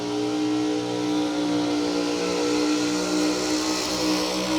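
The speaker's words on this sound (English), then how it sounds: "Omar Bondo says, that's how you do a burnout, son." A 2017 Corvette on a Suncoast chassis with a 632 engine does a burnout at a street nationals drag event: a loud, steady, near engine roar held at high revs throughout, with a strong low harmonic drone and broad tire hiss.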